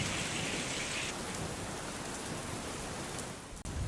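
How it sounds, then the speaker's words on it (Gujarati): A heavy downpour with strong wind pounds steadily in rural Bharuch, Gujarat, as a dense, continuous roar of rain on surfaces with no voices. "ભારે વરસાદ અને ભારે પવન સાથે વીજળીના કડાકા ભડાકા સાથે ધોધમાર વરસાદ થયો"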